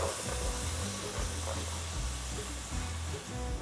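Onion sizzling in butter in a pan for a carbonara-style pasta with onions, prosciutto and Parmigiano; a continuous, even frying hiss with a low background hum and no talking.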